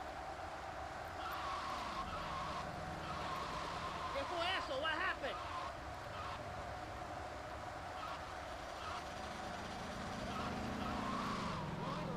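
Car driving in GTA Vice City, a steady engine drone and road rumble running the whole time beneath game sounds and someone talking.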